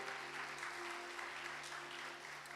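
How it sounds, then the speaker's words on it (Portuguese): Congregation in a church clapping in praise, a soft, steady patter of many hands heard at a distance over a low electrical hum. "quem crê diga amém, e aplauda a Jesus."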